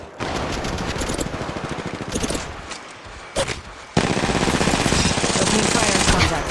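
Rapid automatic gunfire rattles in an Apex Legends match, loud sustained bursts broken by short gaps, with brief in-game voice lines between volleys.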